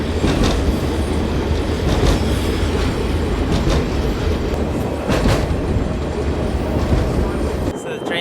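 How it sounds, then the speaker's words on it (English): A train in Mauritania rumbles loudly along the rails with rhythmic clacking wheels and occasional metallic squeals, close and continuous. "So the train stopped here"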